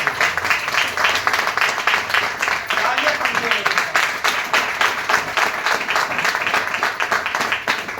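Loud, sustained audience clapping at a motivational seminar, a thick rhythmic patter from many hands filling the room for several seconds, with a voice speaking over it.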